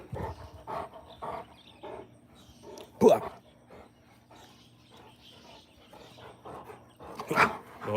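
Rottweiler and another dog roughhousing in play, with scattered barks, growls and whimpers, two sharper yelps standing out, while people talk and call out over the scuffle.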